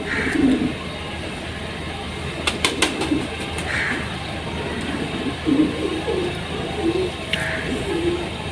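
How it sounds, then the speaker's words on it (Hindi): Several pigeons coo softly in low, repeated phrases against a steady background hiss, with a few brief sharp clicks and faint chirps over a little more than eight seconds. "ये कबूतर, ये बच्चा,"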